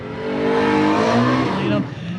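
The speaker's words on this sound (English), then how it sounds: "He's going to turn the car around here in victory lane, or at least serve up some donuts." A race car in victory lane at Lebanon Valley roars loudly with rising and falling revs as it spins donuts, tires squealing, while an announcer talks over it.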